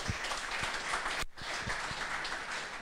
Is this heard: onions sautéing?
no